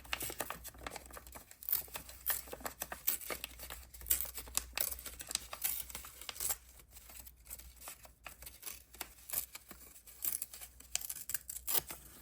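Scissors snip through paper while a travelers notebook is being decorated, giving close, crisp repeated cuts with light paper crinkling in an uneven rhythm.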